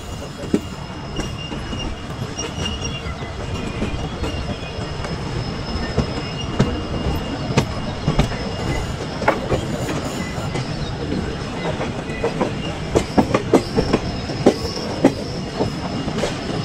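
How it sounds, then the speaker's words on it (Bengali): The Siphung Express rolls steadily along the rails, a continuous low rumble with sharp metallic clicks and squeals from the wheels, no voices. "দেখতে দেখতেই আমাদের ট্রেন মেন লাইনে চলে আসলো, প্ল্যাটফর্ম লাইন ছেড়ে।"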